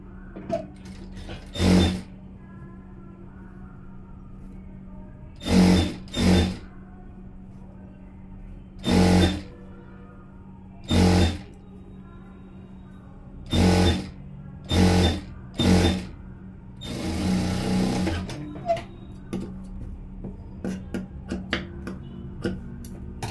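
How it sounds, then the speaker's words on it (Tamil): A sewing machine stitches a blouse in short, loud bursts of rapid mechanical whirring separated by pauses, with one longer run near the end and faint clicks in between. "இதுக்கும் இன்னொரு தையல் போட்டுடலாம்."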